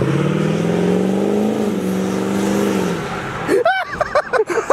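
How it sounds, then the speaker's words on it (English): A loud vault truck engine roars steadily with a low rumble, then revs and sputters in uneven bursts near the end. "vault truck noise"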